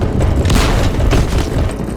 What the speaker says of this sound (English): A double howitzer?